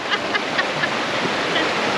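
A waterfall in Chiang Mai rushes as a steady, dense wash of falling water, continuous and fairly close, with no clear voices over it.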